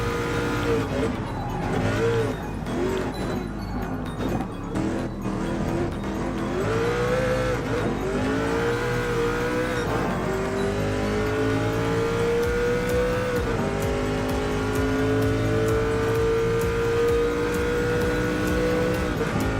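Race car engines roar and whine in Gran Turismo Sport among Vision GT and LMP1 prototype cars, revs rising and falling through gear changes with occasional tire squeal, a dense continuous engine drone under a speaking voice.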